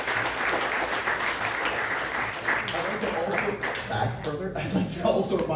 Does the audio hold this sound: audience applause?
yes